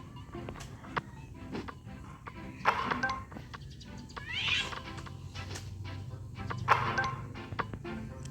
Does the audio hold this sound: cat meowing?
yes